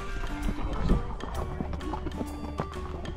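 A horse's hooves clip-clop along a dirt trail at Daley Ranch, a loose run of close, uneven thuds, while people nearby greet the horse in friendly voices.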